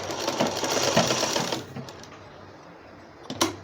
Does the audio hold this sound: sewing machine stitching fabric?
yes